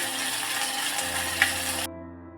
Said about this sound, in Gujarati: થોડીક વાર માટે આપણે આદુની પેસ્ટ અને આપણે જે મરચાંની પેસ્ટ નાખેલી છે તેને આપણે સાતળવા દેશું